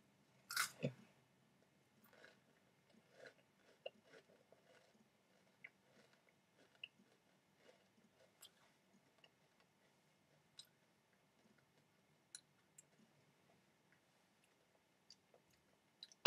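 Cupcake Pebbles cereal is chewed in a quiet room: one loud crunchy bite at the start, then a long run of faint, sparse crunches and clicks spaced irregularly over about sixteen seconds.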